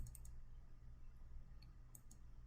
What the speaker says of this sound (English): And I'll double click my fill handle.